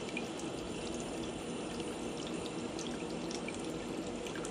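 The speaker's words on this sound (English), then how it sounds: "it's just pumping water on its own" Steady rushing and splashing of water pumped by an ultrasonic drill, continuous and even, with no voices.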